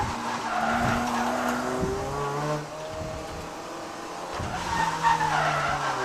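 A Honda Prelude drifting through a corner on a mountain touge road without the handbrake, tires squealing loudly in long sliding wails over the revving engine, close and sustained.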